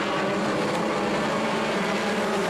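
Race cars accelerate at the green flag on an oval track, a dense continuous engine roar that stays loud and steady throughout, with no pauses and no voices.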